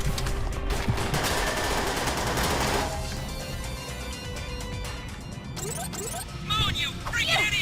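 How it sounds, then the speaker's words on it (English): Automatic weapon fire in Perfect Dark Zero, a rapid burst of shots followed by crashing impacts and scattered in-game effects, with a voice talking over parts of it. "This is an automatic weapon."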